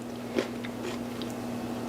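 A single crisp bite into crunchy fried cauliflower, followed by soft chewing, close up and quiet.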